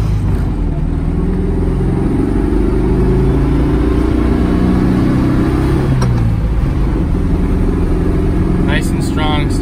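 A 1970 Volkswagen Beetle engine runs on the street with a steady, loud low rumble and mild revving throughout, joined by a brief clatter near the end, and someone talks over it.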